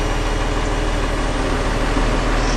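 A Class A truck's diesel engine idles during an air brake test. It gives a loud, steady low rumble with a constant throb close by, and no voices are heard.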